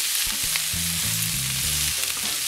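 Leeks frying in a pan give a steady, close sizzle that runs the whole time, with low background hum patterns and no one speaking.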